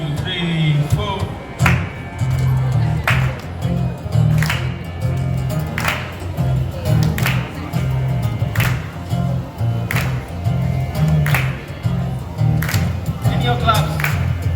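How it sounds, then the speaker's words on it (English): A group claps together in a steady, even rhythm, with sharp regular beats about every second and a half. A voice chants and talks over the claps throughout. "So let's chant and clap together."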